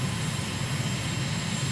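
An aircraft's engine drones steadily in Microsoft Flight Simulator during a long landing near Cephalonia, Greece, with a constant loud hum and no talk.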